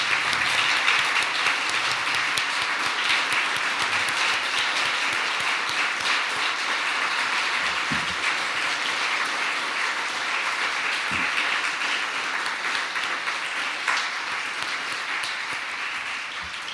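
Sustained applause from an audience standing for award nominees at the 2021 Australian of the Year Awards ceremony in the Australian Capital Territory, a dense, steady wash of clapping that fills the whole stretch without talk.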